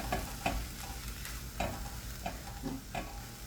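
A canned tuna Mexican dish with jalapeno cooking over medium heat, a steady sizzle with repeated spoon scrapes and stirring knocks, close and moderately loud.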